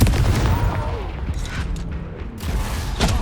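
A Confringo fire spell blast in the video game Hogwarts Legacy, booming bursts over dense, continuous combat noise, with a sharper hit near the end.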